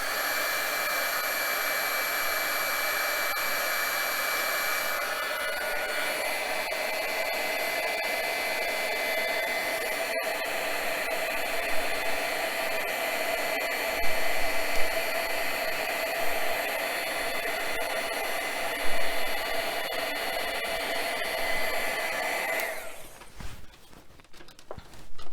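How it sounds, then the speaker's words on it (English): A handheld heat tool blows hot air in a steady, loud, close whoosh with a constant motor whine for about twenty-three seconds, then cuts off abruptly and leaves a few faint handling knocks. "I'm going to bring in my heat tool. This is going to be a little bit noisy"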